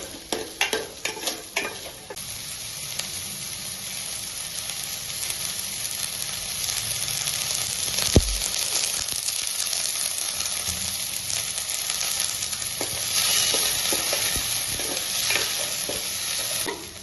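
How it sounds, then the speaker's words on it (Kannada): Garlic sizzles steadily in a hot pan while it is stirred now and then, with soft scrapes and one sharp knock against the pan. "ಇದನ್ನ ಸ್ವಲ್ಪ ಫ್ರೈ ಮಾಡ್ಕೋಬೇಕು."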